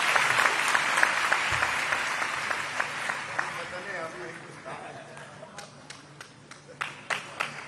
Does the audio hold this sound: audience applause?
yes